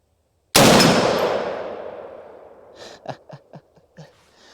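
A single loud rifle shot cracks against High Wild steel target plates and decays slowly, followed by several faint, short metallic pings and knocks.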